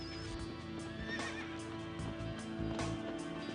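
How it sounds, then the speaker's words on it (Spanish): Wild horses in a herd roam a coast, one whinnying in a high, wavering neigh amid soft hoof clip-clops and a low ambient drone. "por la costa merodea una manada de caballos salvajes"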